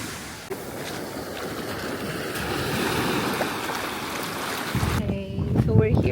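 Ocean waves wash at Angel Billabong Beach on Nusa Penida, Bali, a steady roar of surf mixed with wind buffeting the microphone, with voices briefly heard near the end.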